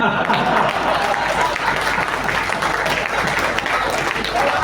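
Sustained applause from a large audience at a Hindi poetry gathering, steady and loud throughout, with a voice faintly audible beneath the clapping.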